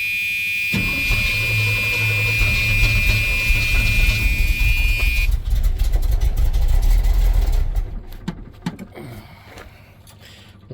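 A 1976 Chevrolet C10 truck engine with an exhaust leak cranks and fires up, running loud and rough under a steady high-pitched warning tone for several seconds before the noise drops away and the engine quiets down.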